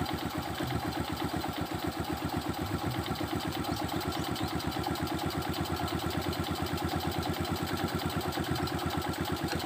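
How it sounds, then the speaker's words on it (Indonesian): Motorcycle engine with the carburetor idle set too low, running close by in a fast, steady, slightly uneven putter that holds throughout without dying out. "Kalau kita lepas gas, nggak kita pegang tuh mati motornya"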